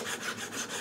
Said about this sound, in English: Another thing that I think works kind of nice is to use a file.